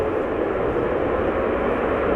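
A 12-year-old Boeing 777-300 arriving from Vancouver touching down at Amsterdam Schiphol, a steady loud jet-engine roar filling the short stretch without a distinct separate thud of the bumpy main-gear contact.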